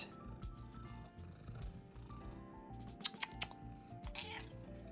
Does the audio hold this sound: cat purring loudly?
yes